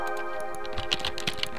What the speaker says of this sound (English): typing and clicking mouse